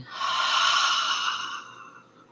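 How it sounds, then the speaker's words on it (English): A single slow, deep breath drawn in through the nose, a close, airy rush of moderate loudness that swells and then fades as it tapers off, alone without any talk. "inhaling through the nose slowly. Filling up the lungs and exhaling"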